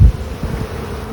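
Honey bees buzz around an open hive during a September inspection as a frame is lifted out, a low steady drone close by with no voices.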